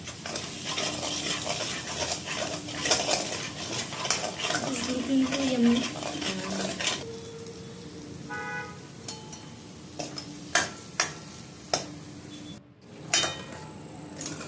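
A spice mixture of turmeric, masala and salt is stirred in a pan while making patwadi rassa curry. Steady scraping strokes run close up, with a few sharp metallic clinks toward the end.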